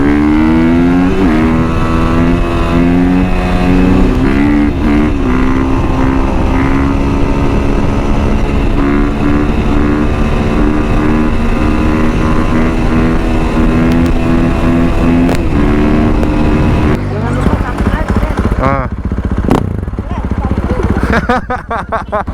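A Husqvarna 450 FS motocross bike engine revs loud and close, holding steady harmonic tones that rise and fall, then cutting into choppier bursts near the end while a person talks over it.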